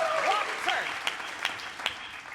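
Audience at a conference talk on debugging async JavaScript clapping in a dense, moderately loud burst that thins toward the end into a few separate claps, with a brief voice over the start.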